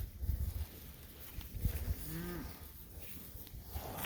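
A Murray Grey cross cow on grazing pasture gives one drawn-out moo, fairly distant and soft, over a low rumble of wind and outdoor background noise.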